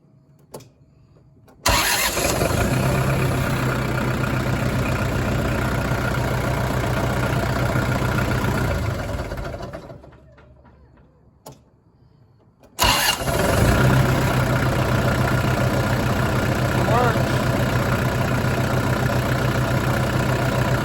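A Ford 55 Workmaster tractor cranks and fires on a newly installed starter, then idles loudly with a steady rumble. The engine stops for a few seconds, then restarts abruptly and settles back into a close, even idle.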